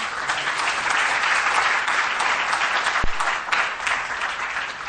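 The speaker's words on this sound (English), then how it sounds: "Ladies and gentlemen, a round of applause again for Honorable Isaac Adongo" Sustained audience applause fills a public political forum on a national budget, a dense, steady wash of clapping hands from a sizeable crowd that carries on throughout without any talk.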